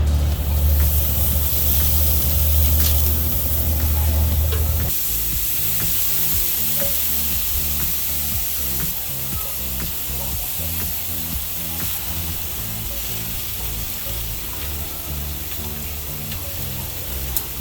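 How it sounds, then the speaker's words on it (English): Teriyaki beef kabobs sear on a grill at medium-high heat, giving a steady close sizzle and hiss that runs throughout, louder in the first few seconds and then settling into a constant crackling frying sound. "Just gonna look for a quick sear."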